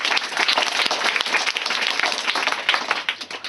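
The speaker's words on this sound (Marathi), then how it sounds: "जोरात टाळ्या वाजवायच्या." Children clapping loudly together in a classroom, a dense, steady patter of many hands sustained throughout without a break, close and lively.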